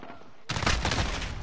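Gunfire in Call of Duty: a short quiet lead-in, then a sudden loud burst of rapid shots that stays dense to the end.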